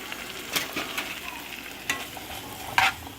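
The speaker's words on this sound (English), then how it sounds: "Give it a nice stir so they can get that flavor from the the spices and stuff." Drained, rinsed kidney beans are stirred into a simmering Haitian vegetable beef stew, with a soft sizzle running underneath and a few distinct scrapes of the spoon against the pot, close and fairly quiet.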